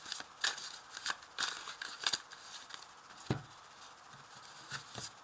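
A deck of tarot cards being cut and shuffled by hand, giving a series of crisp, close card snaps and riffling flicks at an irregular rhythm, quiet and alone, with no talking.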